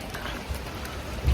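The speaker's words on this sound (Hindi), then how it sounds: "सो आपको मैं दिखाता हूँ बारिश का गंदा माहौल यहाँ का क्या।" Steady, moderate rain falls outdoors in Serbia, an even hiss with a couple of louder low gusts or splashes.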